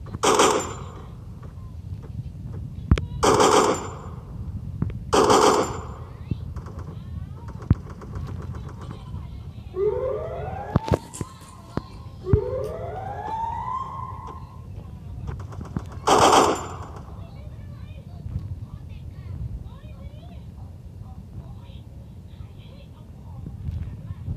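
Bursts of automatic gunfire in the mobile shooter Free Fire, several sharp rapid volleys spaced across the scene with quieter game sounds between, while people talk throughout.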